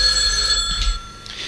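A telephone rings in a 1990 radio studio in Perpignan, a bright repeating bell tone sounding loud and close for a short burst.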